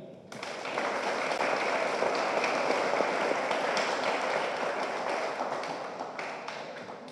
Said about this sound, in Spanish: Le pedimos un fuerte aplauso para el doctor Gerardo Mejía.